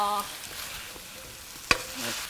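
Vegetables and pork stir-fried in a pan for curry, with a splash of sake, hiss in a soft steady sizzle alongside light scraping of the spatula and one sharp clack against the pan.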